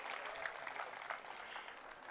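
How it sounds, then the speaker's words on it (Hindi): A crowd applauds at a Swachh Bharat peace march programme in Chandigarh, a steady, fairly faint wash of clapping that holds evenly for a couple of seconds without a break. "जोरदार तालियां इस सकारात्मक सोच के लिए"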